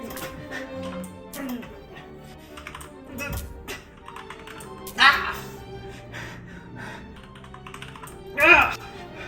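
Fingers type an essay on a computer keyboard, producing bursts of quick clicks and taps with brief pauses, while a voice speaks and gasps over them.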